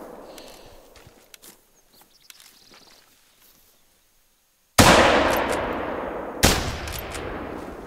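Two sharp, loud hunting-rifle gunshots in the video game The Hunter: Call of the Wild ring out after a quiet stretch of faint clicks and movement, each followed by a short decaying tail.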